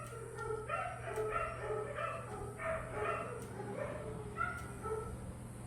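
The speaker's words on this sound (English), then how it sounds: "I have 5 dogs. That's all 5 of them hooting and hollering in there." Five dogs bark, yip and whimper together from inside a nearby room, a continuous overlapping chorus of high yelps and howl-like cries over a steady low hum, with no talk.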